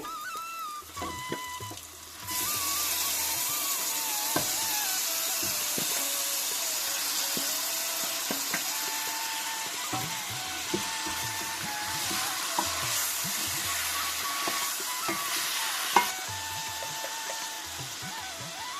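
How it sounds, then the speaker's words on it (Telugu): Goat meat pieces frying with onions in a pan for Andhra goat curry, a steady loud hiss and sizzle with occasional scrapes and clicks. A faint tonal whine runs underneath. "ఉల్లిపాయ ముక్కలు మగ్గిపోయినాయండి. మాంసం ముక్కలు వేసేసుకుందామండి."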